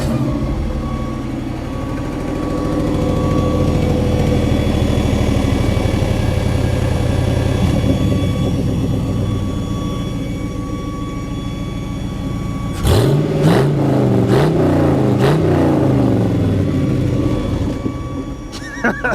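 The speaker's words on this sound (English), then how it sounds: "let's just go ahead and start this Jeep up and let you hear it." An LS-powered Postal Jeep DJ5 fires up and idles with a steady, loud engine rumble, then revs sharply in several quick bursts near the end, close and alone with no talking.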